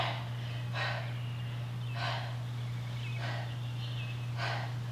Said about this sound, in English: Pretty sure you can hear me breathing now.